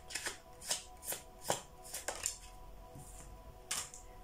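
Tarot cards are shuffled and pulled with a series of soft, quick riffling snaps and flicks in an irregular rhythm, faint and close by, with no talking.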